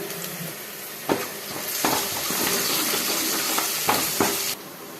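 Drumstick leaves tipped into onions frying in a pan set off a loud, sustained sizzle, with a few sharp clinks and scraping stirs against the pan. No one speaks.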